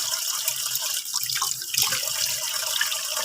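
Steady stream of tap water runs into a sink while a paintbrush is rinsed, a continuous close splashing hiss with small drips and no talk.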